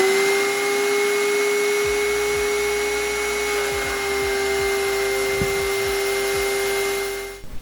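A DeWalt DW735 benchtop planer runs with a loud, steady motor whine and hum while wood chips are blasted out, small sharp ticks and impacts scattered through the continuous drone, winding down at the end.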